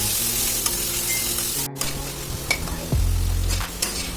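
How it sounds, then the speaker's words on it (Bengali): Chicken mince sizzling and frying in a hot pan while being stirred, a steady hiss with a few scraping clicks of a utensil and a louder burst of sizzle near the end, no talk. "একটুখানি নেড়ে চেড়ে আমি যে কিমাটা বানিয়েছিলাম চিকেনের, সে কিমাটা দিয়ে দিচ্ছি। এবার এটাকে আমি ভালো করে মিশিয়ে নেব।"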